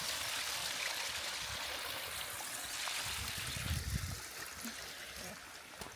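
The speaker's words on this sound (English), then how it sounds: "Little stream running through roots." Small stream trickling through tree roots outdoors, a faint, continuous watery babble with soft splashes, quiet and steady throughout.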